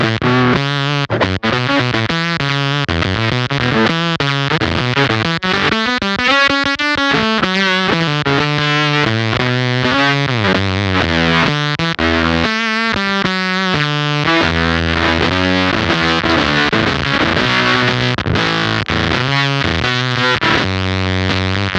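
Electric guitar through a Cat Box Customs Bean Machine fuzz pedal in high gain mode, heavily compressed and saturated, with chugging chords and single notes played continuously, loud and close, notes sometimes sputtering when struck hard.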